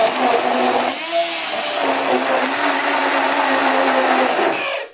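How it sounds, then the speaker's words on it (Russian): An electric blender purees strawberries with a loud, steady high whine, briefly dipping in pitch as the load shifts, then running on before cutting off at the end. "На блендере немножечко вот."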